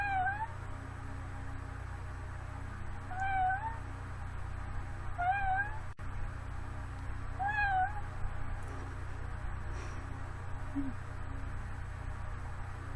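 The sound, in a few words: person imitating a cat meowing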